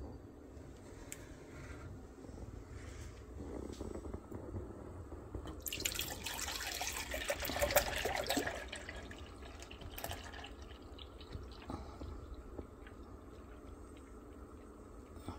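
Milk pours from a gallon jug into a milk cooker with a soft, close liquid splash that swells for a few seconds over quiet kitchen background, with no talking.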